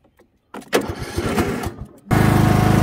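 A Cub Cadet XT1 LT42 riding lawn mower cranks with a starter whir for over a second, then its engine catches and settles into a loud, steady, close idle.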